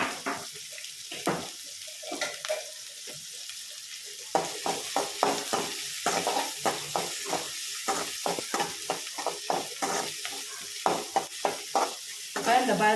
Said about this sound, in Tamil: இப்போ வெங்காயம் நல்லா கிண்டிடணும்